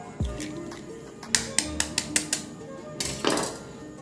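Eggs cracked into a bowl while making bread pakoda, with several sharp taps of shell against the rim in a quick series, followed by a wetter clatter as the contents drop in.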